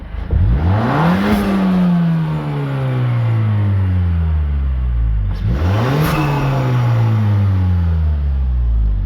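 A Mazda 3 Turbo with a Corksport turbo inlet pipe and factory airbox is revved twice from a steady idle. Each rev climbs sharply and then falls back, loud and close, with a low engine drone underneath.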